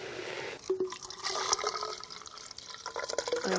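Water gurgles and drips in wet soil during a field measurement of soil moisture, liquid bubbling and trickling close by over a faint steady background tone.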